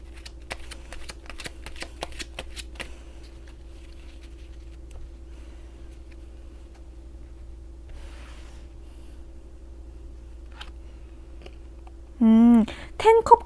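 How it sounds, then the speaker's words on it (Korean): Tarot cards are shuffled with a quick run of close, crisp riffling snaps at the start, then a long quiet stretch of faint rustles before a voice begins speaking at the end. "조언 카드 한 장 뽑아보도록 하겠습니다"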